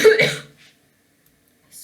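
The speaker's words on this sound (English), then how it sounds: "I swear this cough is nearly gone." A single close cough, sharp and throaty, in two quick bursts followed by near silence and a faint trailing sound.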